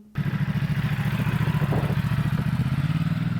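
A motorcycle ridden by someone dressed as Santa Claus passes with a steady, pulsing mid-pitched engine drone, loud and close, holding an even throttle for several seconds with no talk.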